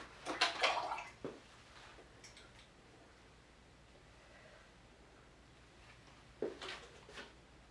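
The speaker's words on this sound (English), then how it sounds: "Just clean off your brush, just have water on it" A paintbrush swished and rinsed in a water pot during watercolour painting, two short bursts of splashing and clinking at the start and the end with a quiet pause between them.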